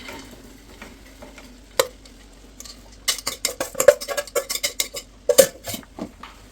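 Fried chicken pieces are stirred into a sautéed masala in a pan for homemade chicken pickle. Near, rapid clattering scrapes of a metal spoon against the pan come in quick bursts over a low frying hiss, with no talk.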